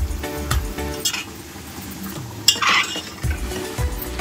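Spoon stirring milk and yogurt into raw jackfruit biryani in a pot, with scraping strokes and a few metallic clinks against the vessel, close and fairly loud.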